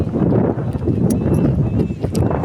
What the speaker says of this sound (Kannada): ಗಾಳಿ ಅಂತೂ ಮಸ್ತ್ ಬಿಟ್ಟೈತ್ರಿ